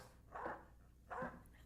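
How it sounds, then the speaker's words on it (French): Two anxious barks from a nervous dog, spaced about a second apart, muffled and moderately distant indoors. "Il est inquiet et avec ses aboiements, Madame Nina est vraiment nerveuse"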